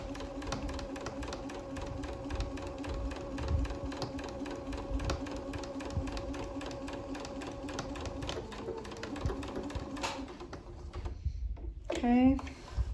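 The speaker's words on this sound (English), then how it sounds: "I'm gonna back stitch when I get there." Sewing machine running steadily as it stitches a medical mask with filter, with a back stitch near the end; a close, even mechanical whir with rapid needle clatter, stopping briefly before a short burst near the end.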